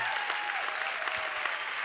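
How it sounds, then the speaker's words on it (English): Warm, loud applause from a crowd at a company gathering welcoming new businesses, a thick continuous roar of clapping with faint voices and cheers mixed in. "Give them a big round of applause, please."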